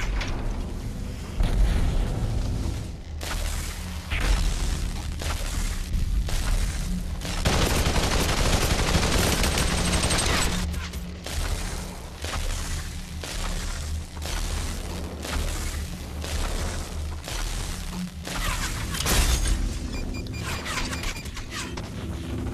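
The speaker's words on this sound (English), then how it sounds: "I'm gonna start throwing a grenade over there." Grenade blasts and gunfire in the VR battle royale Population: One, a loud, continuous barrage of booms and rapid shots filling the whole stretch, with a bigger burst near the middle.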